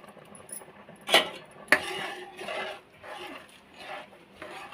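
Upma being stirred in a cooking pan with a spoon, two sharp metallic clinks against the pan followed by soft scraping and swishing strokes at a close, quiet level.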